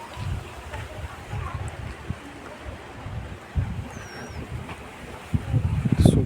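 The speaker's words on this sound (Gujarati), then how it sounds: "પવન બહુ જોરદાર આવે है" Strong wind gusting across an open farm field near Dantali village, rumbling microphone buffeting that rises and falls in bursts and grows heavier toward the end, with faint voices in the background.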